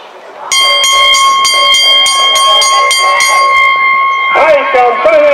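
A loud, sustained ringing bell clangs rapidly and continuously at a horse race track for several seconds, then stops abruptly, with a crowd and an announcer's voice under and after it.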